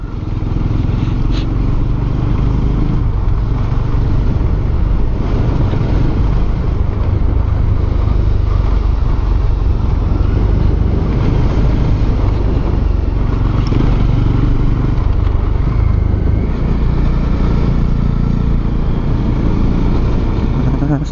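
Motorcycle riding along a street in Aizawl, a continuous loud engine drone with road rumble lasting the whole stretch, with talk at times.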